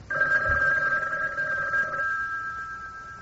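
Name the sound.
telephone ringing, in a radio drama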